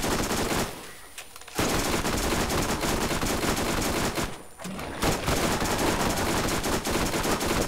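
Heavy, nearly continuous automatic gunfire from the video game Borderlands, loud and dense, broken only by two short lulls before the rapid shooting resumes.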